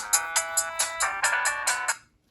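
A Motorola W315 mobile phone from 2006 plays a ringtone through its speaker, a bright melodic tune of quick repeated notes, fairly loud and close, ending abruptly after about two seconds with no talking.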